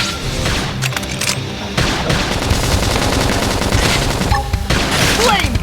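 Dense bursts of rapid gunfire and booms from the Xenoblade Chronicles X video game pour out loudly and continuously, with sharp overlapping shots throughout.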